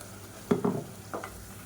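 Soft stirring sounds in a pan as a paste for egg thokku sautés, two brief scraping bursts with a faint sizzle underneath, quiet and close.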